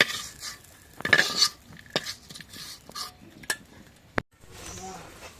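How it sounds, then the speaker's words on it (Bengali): Fried pointed gourd being scooped out of a pan, with scattered metal utensil scrapes and clinks against the cookware, a few sharper knocks, and faint background noise, mostly without speech. "যখন পটল ভাজি হয়ে গেছে, এখন নামাই নিই।"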